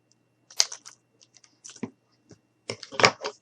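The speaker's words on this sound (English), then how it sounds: "let's just go ahead and take our scissors and cut a little bit." Scissors snip at decorative bulbs for floating teacup decor in a series of crisp close cuts, irregular clusters of sharp clicks and crunches over near silence.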